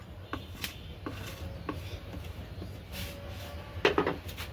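A lid goes onto a pot of dal cooking with bottle gourd, heard as a few light taps followed by a brief, louder clatter near the end over a low kitchen hum, with no voices.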